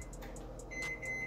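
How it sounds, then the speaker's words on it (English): A microwave oven hums quietly with a steady low drone, and a thin high electronic whine comes in partway through. "put it in the microwave"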